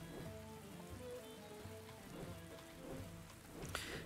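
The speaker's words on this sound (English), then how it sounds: "Since it's raining and all." Steady rain falls in the Viking survival game Dead in Vinland, a continuous soft patter of raindrops spread evenly through the scene alongside low, sustained game music.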